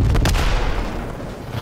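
A bomb explosion in a Call of Duty match hits with a loud, close boom, and its heavy rumble rolls on and slowly fades away.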